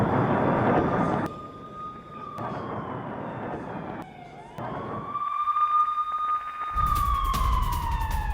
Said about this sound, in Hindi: चारों तरफ बज रहे हैं अलर्ट सायरन